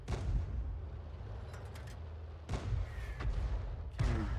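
Heavy artillery fire from an SU-26 self-propelled gun in a tank battle video game, with deep booming reports, one near the start and another around the middle, over a constant low rumble of engine and battlefield noise.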